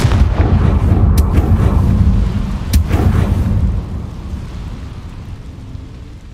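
A fiery Confringo blasting spell bursts loudly in the game Hogwarts Legacy, its deep rumbling boom followed by two sharp cracks before the roar fades into a lingering low rumble.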